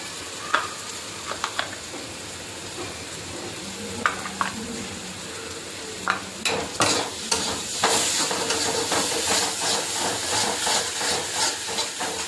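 Ground masala sizzles in a pan for chicken curry with scattered spoon scrapes and clicks early on, then the frying swells into a louder, denser crackle with continuous stirring for the remainder.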